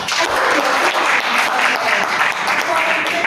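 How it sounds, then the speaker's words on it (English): Participants at a self-discovery training session applaud themselves, giving a dense, continuous wash of clapping from a roomful of people that stays loud and steady throughout, with voices mixed in beneath it. "Do we want to clap for ourselves?"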